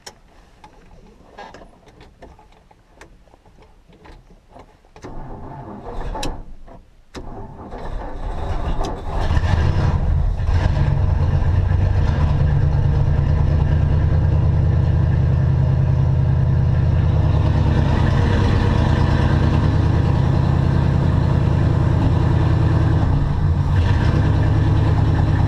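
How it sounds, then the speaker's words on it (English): Carbureted vehicle engine cranking with uneven sputters, then catching around the ten-second mark and settling into a loud, rough, lumpy idle with too much choke. Close by, with no talking. "Roughness to the idle, that's too much choke."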